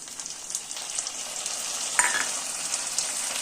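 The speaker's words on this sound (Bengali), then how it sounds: "এবার এর মধ্যে জিরা, আদা, কাঁচা লঙ্কা বাটা আছে, এটা দিয়ে দিলাম মশলাটা।" Cumin, ginger and green chili paste fry in hot oil with fried onions, giving a steady bright sizzle with light irregular stirring taps, close and even, no voices.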